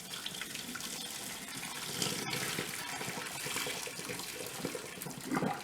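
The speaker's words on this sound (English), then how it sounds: "my noodles are done. So I'm going to go ahead and drain these out." Cooking water poured off boiled pasta noodles in a kitchen: a steady, loud rush of splashing water that runs continuously with no pause, no voices.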